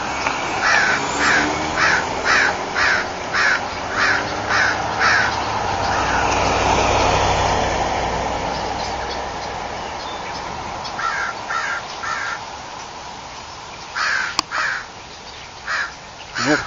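Crows caw repeatedly from a tree on a street beside a hospital, bursts of harsh calls in clusters with gaps, fairly close and loud over steady traffic rumble, one sharp click near the end.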